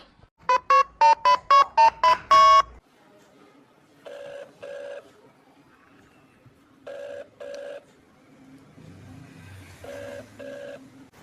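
A quick run of keypad tones, then a phone ringing in repeated double bursts separated by quiet gaps.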